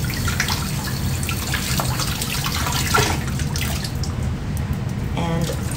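Tap water runs steadily while hair extensions are rinsed, a continuous close splashing rush with light drips and no pause.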